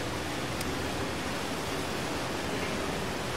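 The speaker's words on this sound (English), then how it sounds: "Jump down the waterfall." A waterfall in the video game Outer Wilds produces an even, continuous rushing hiss at moderate level, unchanging throughout with no talk.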